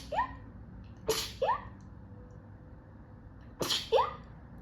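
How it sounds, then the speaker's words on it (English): A person sneezes several times at close range indoors, each a sharp burst with an inhaled lead-in, separated by quiet pauses. "I might sneeze."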